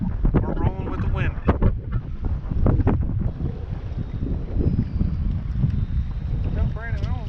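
Strong wind buffets a bass fishing boat on open water, a loud, constant rumbling gust noise across the microphone with people talking over it throughout.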